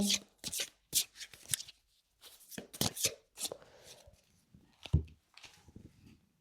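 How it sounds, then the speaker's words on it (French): Oracle cards being shuffled by hand, in quick, close riffling bursts and soft slaps, with a few pauses between them. "on va tirer une carte donc pour guérir de ces blessures émotionnelles"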